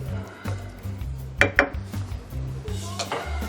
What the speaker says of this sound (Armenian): Տեղափոխենք մատուցվող ափսեի մեջ։ Նախ եւ առաջ հավի մսի կտորները։